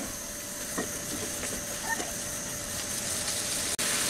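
Curry sauce coming to a boil in a pan over raised heat, giving a steady close hiss and sizzle with faint bubbling throughout, and no voices.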